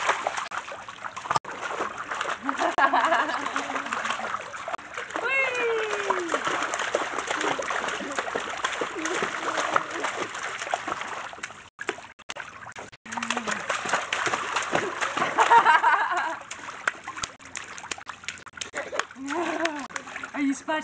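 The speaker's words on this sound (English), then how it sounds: "Are you splashing, Hannah?" A child splashes water in repeated bursts, wet slaps and trickles coming close and loud, with children and an adult talking over and between the splashes.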